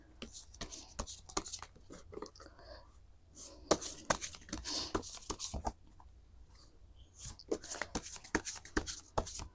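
Tarot cards being shuffled by hand in quick bursts of riffling, flapping strokes, close and fairly loud, with short pauses between runs.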